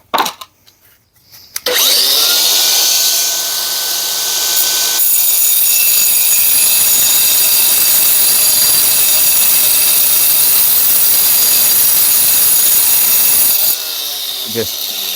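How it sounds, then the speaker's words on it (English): An angle grinder slowly cuts through a brick, a loud, steady, harsh grinding whine that runs unbroken for most of the stretch after a brief quiet start, then drops off near the end. "just gently letting the weight of the grinder slowly cut through the brick"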